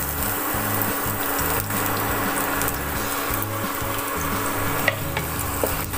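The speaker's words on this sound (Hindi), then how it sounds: "ऑयल जैसे हीट होता है, हम उसमें डाल लेंगे अपना गार्लिक" Garlic sizzling in hot oil in a pan for vegetable fried rice, a steady dense crackle with occasional sharper pops, loud and close throughout with no talking.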